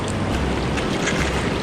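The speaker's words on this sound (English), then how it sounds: "I've got a little creek right here." Running water from a little creek beside a trout and coho fishing spot on a river, a steady broadband rush with no breaks and nobody talking over it.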